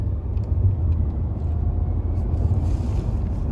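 A 2022 Tata Nexon EV Max electric car under full-throttle acceleration gives a steady low rumble of road and cabin noise, even and continuous throughout, with no talk heard.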